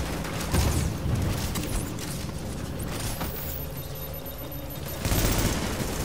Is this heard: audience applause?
no